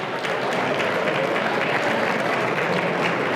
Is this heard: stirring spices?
no